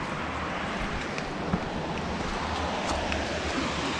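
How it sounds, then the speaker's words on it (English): Steady broadband rushing of falling water fills the scene, a constant outdoor roar with faint wind and no talking. "It sounds like there's a waterfall over here."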